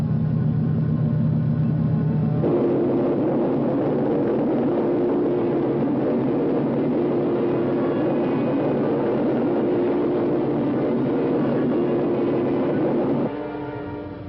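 Spaceship engines in a science fiction film give off a steady, loud mechanical drone. The pitch shifts abruptly early on and again near the end before it tails off, with no talking.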